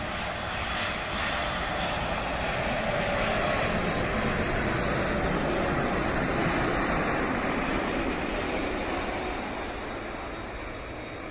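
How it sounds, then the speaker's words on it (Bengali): An Atlas Air four-engine Boeing 747 cargo plane roars steadily and loudly overhead at an Uttara plane-spotting area, a dense broadband engine rumble that holds throughout and eases slightly toward the end. "চার ইঞ্জিন বিশিষ্ট Atlas এয়ারের Boeing seven four seven"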